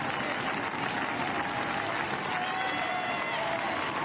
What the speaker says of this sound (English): The crowd are really encouraging her to finish and head towards this finish line.